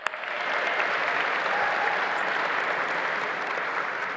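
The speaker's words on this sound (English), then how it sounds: "One more round of applause." Sustained audience applause at a youth awards benefit, a dense, even wash of clapping from a full room that rises quickly and holds steady.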